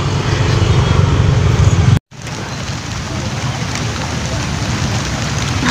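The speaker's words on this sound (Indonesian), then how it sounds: "Hujan semakin deras." Heavy rain falling steadily on a lake during a fishing trip at Setu Srike, a loud dense hiss that cuts out briefly for a moment and then resumes just as strong.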